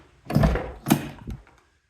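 Door of a 1994 Chevy K1500 pickup swinging open: a cluster of close, fairly loud clunks and thuds from the latch and hinges over about a second and a half, with no talking.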